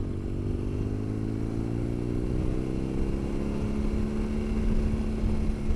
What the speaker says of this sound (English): Ride through a flood.